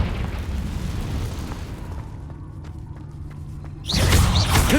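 Confringo blasting spell explosion inside a cave in Hogwarts Legacy: a sustained roaring rumble, then a brief lull with faint clicks, before a second loud booming burst swells at the end, with no talk.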